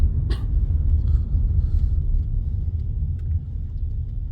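Road traffic in San Diego: a steady low rumble of cars heard from inside a moving vehicle, with a few faint higher sounds over the drone.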